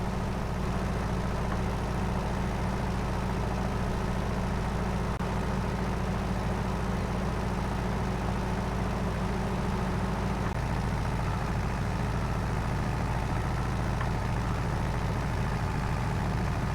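An alpine tractor with a 24 mph gearbox drives a mountain route in Farming Simulator 22, its engine giving a steady, loud low drone that holds evenly for the whole stretch, with no voices over it.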